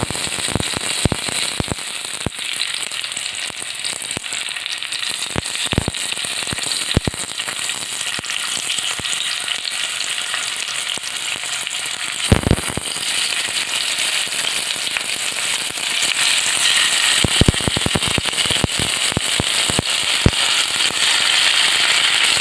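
Sardines in pepper marinade sizzle in hot oil on a coffee leaf, a steady close frying hiss with scattered sharp crackles and pops throughout, louder bursts near the middle and end, no voices.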